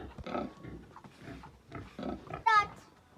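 A pig grunts and gives a short squealing oink near the end. Several people talk close by and partly cover the animal.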